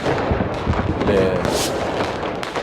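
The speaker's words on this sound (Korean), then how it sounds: "축하의 폭죽이 터지고 있습니다." Celebratory fireworks bursting at a New Year countdown, crackling and booming continuously through a dense, loud wash of crowd noise and speech.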